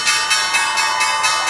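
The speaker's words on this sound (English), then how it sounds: "That is the sound of the opening bell from the floor of the New York Stock Exchange." Opening bell on the trading floor of the New York Stock Exchange, a loud, steady ringing with rapid regular pulses, heard alone without voices.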